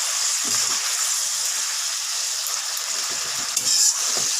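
Fish curry (kalia made with bata fish) simmering in a pan, a steady close bubbling hiss running throughout with faint low pops.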